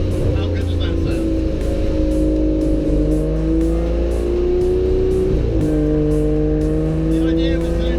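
An Aston Martin GT12 racing car engine drones loudly and close, its pitch climbing in steps through gear changes, with a voice talking over it.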